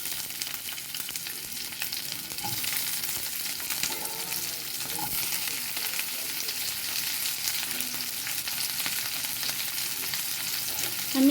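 Chopped onions fry in hot oil in a wok, a dense continuous sizzle with occasional stirring scrapes, close and steady with no talking.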